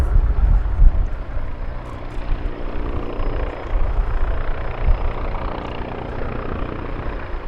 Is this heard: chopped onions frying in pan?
no